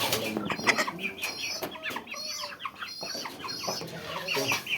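Aseel chickens cluck and chatter close by in a steady, overlapping stream of short calls.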